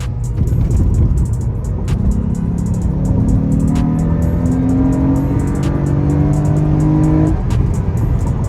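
Acura TL with an aftermarket intake and paddle shifters accelerating hard from inside the cabin, a loud rising engine roar that climbs through the revs, then drops at a shift, with road and wind noise throughout.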